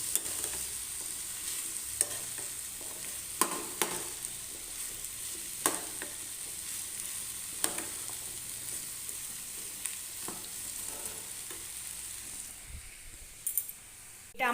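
Chickpeas being stirred into spice masala frying in a pan on a low flame for chana paneer, with a steady close sizzle broken by repeated scraping strokes of a spatula, no talking.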